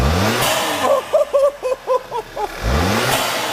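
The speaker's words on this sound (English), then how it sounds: "So now we're gonna have Scott rev it up." A VW Tiguan fitted with a cold air intake idles nearby and is then revved in a quick series of about six sharp throttle blips before settling back to a steady idle.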